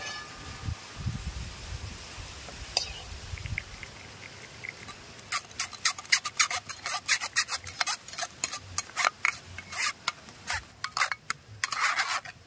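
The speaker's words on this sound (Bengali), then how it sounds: "এবার একটা ছাঁকনি সাহায্যে ছেঁকে নেব" Boiled raw mango is strained through a sieve, with a low, muffled rumble at first. It gives way to close, irregular rasping and scraping strokes that come quickly and unevenly, with no talking.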